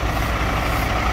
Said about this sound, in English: Look at this truck next to me.